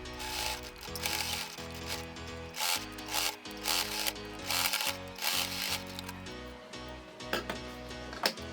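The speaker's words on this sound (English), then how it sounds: "we're going to sew the bias tape on both sides of the pocket" A sewing machine stitching bias tape onto a bag pocket, its motor whirring in bursts of rapid mechanical chatter with brief pauses between runs, close and clear.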